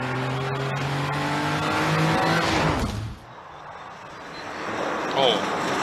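A Toyota GR Yaris rally car sweeps past on a gravel stage: its engine rises loud and close with shifting revs, then drops sharply away, leaving a quieter fading drone. Voices talk over it.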